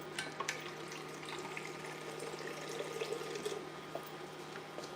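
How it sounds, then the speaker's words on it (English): Water pouring from a tap or jug into a chunky carrot curry mixture in a home kitchen, a steady soft trickle with small splashy clicks running throughout, fairly faint and with no talking. "So let's add a little water."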